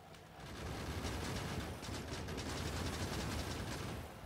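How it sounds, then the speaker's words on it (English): Continuous, dense machine gun fire from the video game Factorio, a steady rapid stream of shots holding at an even level for several seconds with no talk. "Oh man, the sound of machine gun looks so awesome"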